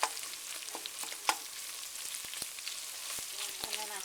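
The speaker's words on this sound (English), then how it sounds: "my meat's cooking down" Pork sizzling and frying in a pan as it cooks down for cornbread dressing, a steady close crackle broken by scattered sharp clicks and scrapes of a utensil chopping and stirring the meat.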